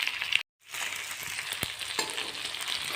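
Slit green chillies frying in hot oil for a pickle, a steady soft sizzle with a brief break and a few small pops and stirring taps.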